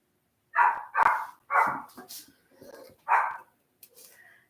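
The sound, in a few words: dog barking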